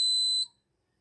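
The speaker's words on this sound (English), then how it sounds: "alarm should be on" Alarm buzzer of an 8051-based vehicle accident detection and alcohol sensing system, a single loud, steady high-pitched electronic tone that sounds for under half a second and then cuts off into silence.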